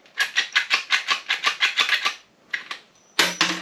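A hand rivet gun works on a rivet during a jon boat interior build, making a quick run of rhythmic metallic clicking squeezes, a brief pause, two more clicks, then a sharper, louder snap near the end.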